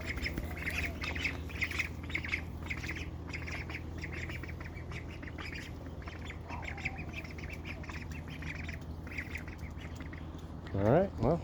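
Cayuga ducks quack and squawk in a busy, repeated run of calls under a steady background hum, with a louder burst of calls near the end.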